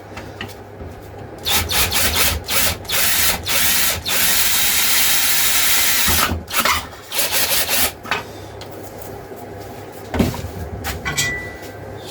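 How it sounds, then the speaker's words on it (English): A drill grinds into tough plastic on a Land Rover in several bursts, harsh rasping and scraping that starts and stops, with quieter pauses between, close by. "It's either a very blunt drill or very tough plastic."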